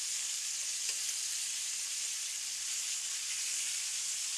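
Pork chops frying in a pan, giving off a steady, even sizzle that holds at a constant level throughout without pause or talk.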